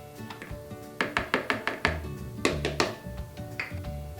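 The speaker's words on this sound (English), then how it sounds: "now we're gonna mix our cashew dough, our coconut flour, and our melted ghee all together." Cashew dough, coconut flour and melted ghee being mixed together by hand in a bowl, giving a series of sharp, close knocks and scrapes in quick bursts, fairly loud, with no talking.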